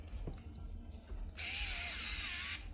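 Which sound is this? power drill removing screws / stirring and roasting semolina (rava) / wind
power drill removing screws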